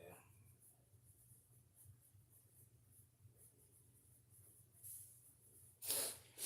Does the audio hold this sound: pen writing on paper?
yes